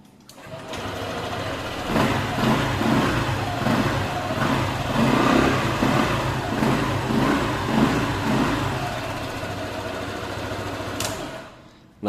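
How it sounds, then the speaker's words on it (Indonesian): A Honda ADV scooter engine runs steadily after being started by jumping its faulty smartkey ignition switch. It holds an even, close, throbbing idle for about ten seconds before cutting off, with no talk over it. "dan motor bisa hidup ini."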